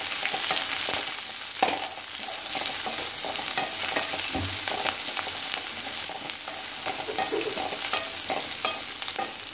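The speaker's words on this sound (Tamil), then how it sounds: "தேங்காய் சீ வாசம் வர்ற வரைக்கும் வதக்கலாம்." Grated coconut and onions sauté in a pan for a Sunday lunch dish, giving a steady, close hiss of frying with scraping stir strokes and occasional soft clunks throughout.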